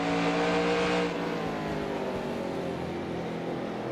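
Race car engines roar in the NASCAR Racing 2003 simulation during a 1994 Winston Cup event at Richmond, a loud, continuous high-pitched drone with steady engine tones and no speech.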